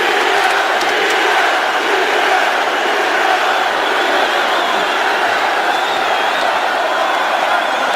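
A UFC arena crowd at McGregor vs Diaz 2 chants for Diaz, a loud sustained wall of massed voices filling the whole stretch without pause.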